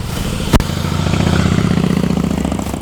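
A 2014 Harley-Davidson Ultra Limited motorcycle engine runs steadily nearby, a low, throbbing idle with a sharp click early on, holding constant throughout.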